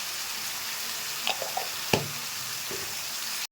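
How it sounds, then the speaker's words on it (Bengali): Red chili powder and spices frying in hot oil in a pan while cooking Bengali morola fish curry, a soft steady sizzle with a few light knocks and stirring clinks from a spoon, no talk. "মশলাটা দিয়ে খানিকক্ষণ কষিয়ে নেব।"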